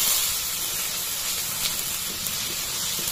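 Spice paste of garlic, cumin, clove and cardamom sizzles and hisses steadily in a pan for a village-style desi chicken biryani, a loud, close, continuous frying sound with no talking.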